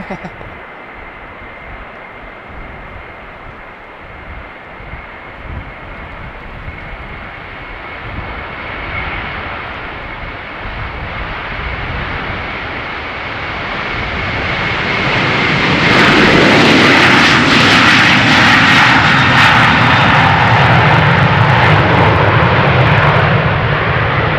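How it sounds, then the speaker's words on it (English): Airliner jet engines spool up for takeoff on runway 36L at Amsterdam Schiphol, a broad steady roar that swells steadily louder and brighter over many seconds, heard from a distance with a voice talking over it. "Next plane is already lined up at the threshold. Spooling up."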